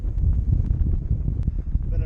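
Wind gusts across a sand dune ridge at Jockey's Ridge, buffeting the microphone with a brief, low, continuous rumble.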